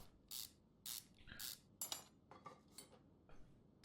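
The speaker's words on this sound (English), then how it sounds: "Give that a bit of a spray." In Car Mechanic Simulator 2021, a spray can gives several short, sharp hissing bursts at irregular intervals with small clicks between them, quiet overall and with no voices.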